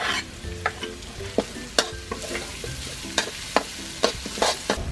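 Minced lemongrass, chili and garlic fry in hot oil in a pan, a steady sizzle broken by regular sharp clacks of a utensil stirring, close and fairly loud with no talking.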